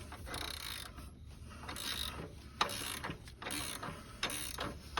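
Ratchet tool working on a power steering pump on a 2007 Suburban, giving repeated quick clicking bursts with a few sharper knocks at moderate close range.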